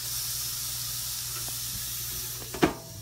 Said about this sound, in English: You're grilling the bacon now.